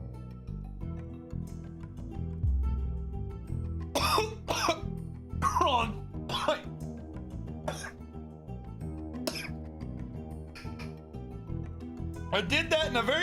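A person coughs repeatedly in a series of sharp, close bursts spread across the span, with throat clearing and some voiced sounds over a low background hum.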